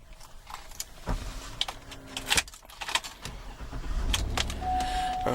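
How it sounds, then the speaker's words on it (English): A black 2011 Cadillac Escalade SUV is started from inside: key and door clicks, then the engine catches and settles into a low, steady idle. "let me go ahead and get inside and get it started for you"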